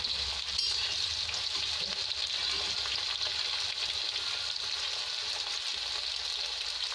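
Onion, garlic and green chilli fry in oil, a continuous hiss of sizzling close by, fairly soft, with light stirring noises and no talking.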